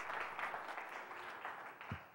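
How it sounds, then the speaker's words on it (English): Audience applause at a St. Louis workplace talk, a soft, continuous wash of many hands clapping, distant and fairly quiet, with no voices clearly over it. "So since we're clapping"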